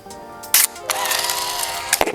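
Minolta film camera being handled: a sharp mechanical shutter click, then a longer winding whir of the film advance and another short click, close and clear with no talk.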